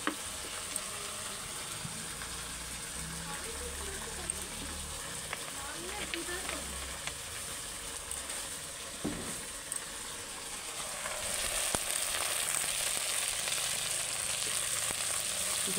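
Onion, tomato, ginger-garlic paste and spices sauté in a hot pan while fish curry is cooked, giving a steady soft sizzle and crackle that grows brighter near the end. Low talk comes and goes underneath.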